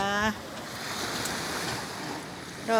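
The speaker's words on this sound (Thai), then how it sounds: "อันนี้จะเป็นทะเลนะคะ" Sea waves wash against the shore near a castle by the coast, a steady rushing surf with wind noise throughout, while someone speaks briefly at the start and end.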